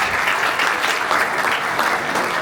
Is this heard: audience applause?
yes